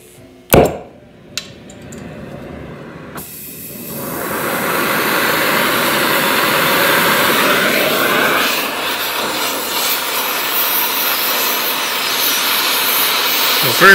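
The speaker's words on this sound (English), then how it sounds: "we're just gonna go ahead and nip them off with the torch" An oxy-fuel torch cuts through rotten bolts on a 1950 Allis-Chalmers WF tractor, a few sharp knocks and clicks giving way to a loud, steady roaring hiss of the cutting flame that holds for about ten seconds.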